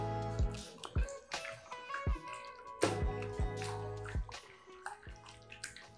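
Beef liver marinating in orange juice being stirred in a bowl, close wet squelching and sloshing strokes repeating in an uneven rhythm, with no talking.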